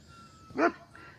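A single dog bark rings out clearly in the middle, with quieter background noise before and after, at a place with dogs and goats.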